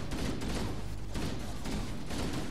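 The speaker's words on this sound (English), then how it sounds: "Wow, shotgun is so good." Repeated shotgun blasts in Halo, dense and booming, spaced roughly half a second apart, loud and close amid constant battle noise.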